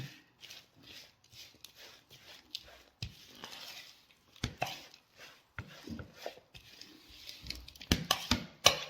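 Oat flour being stirred into a bean cake batter in a bowl, a run of soft scraping and tapping strokes close by, growing a little louder toward the end with faint voice in places.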